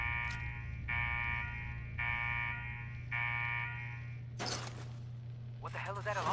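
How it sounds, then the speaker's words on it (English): A repeating alarm in Fallout 4's Nuka World power plant: four evenly spaced electronic buzzer pulses over a constant low hum, followed by a burst of noise and a voice at the end. "What the hell is that alarm?"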